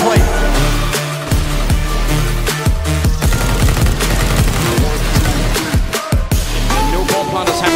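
Rapid bursts of automatic gunfire and single shots crackle through a Counter-Strike: Global Offensive (CS:GO) match, loud and dense with brief gaps, under excited commentary.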